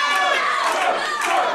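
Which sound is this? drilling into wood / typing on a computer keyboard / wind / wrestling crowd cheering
wrestling crowd cheering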